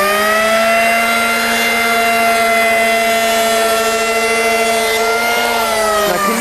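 A Triple Blade 750W electric rebate planer chamfers a wooden edge, its motor giving a loud, steady high-pitched whine throughout that shifts slightly in pitch near the end.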